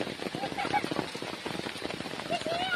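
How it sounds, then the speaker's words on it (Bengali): Heavy rain falls in a patter of dense droplet ticks on surfaces, fairly faint and steady, with voices talking over it and a few tonal sounds. "কত জোরে বৃষ্টি আসছে"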